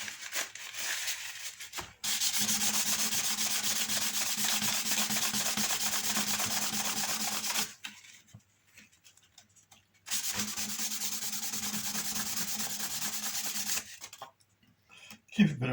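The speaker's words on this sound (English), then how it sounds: "And rub down." A glued wooden joint is rubbed down by hand in long steady scraping passes, two sustained stretches of close rasping friction separated by a pause, with faint talk nearby.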